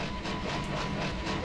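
Train rolling past in the PS2 video game Way of the Samurai: a steady, dense, rumbling roar with faint rhythmic clatter, loud and close, with no voices.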